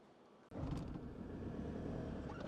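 A remapped Land Rover Defender 2.4 pulls away on a road test, starting quiet before a sudden rise into a steady, close engine and road rumble.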